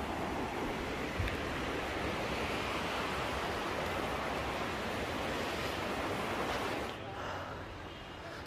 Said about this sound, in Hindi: दोनों साइड झरना।